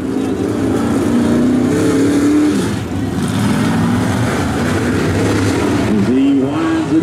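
A late model race car runs a qualifying lap at Sumter Speedway, its engine droning steadily and rising in pitch near the end, heard alongside an announcer's voice.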